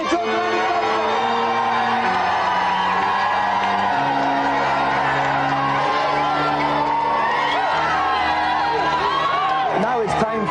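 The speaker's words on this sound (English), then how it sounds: "let's have a round of applause for both our guests today" A 1990s TV game show studio audience cheers and whoops loudly over a stepping musical jingle, with voices shouting throughout.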